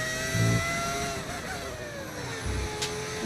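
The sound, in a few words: F1 25 video game race car engine echoing through Monaco tunnel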